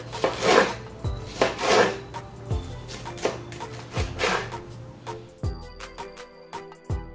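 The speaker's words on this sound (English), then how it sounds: "Get your knife 1/4 inch thick and you cut" A knife chops through a pineapple on a board, roughly eight sharp, close thuds in an uneven rhythm, some with a short wet crunch, and no talking.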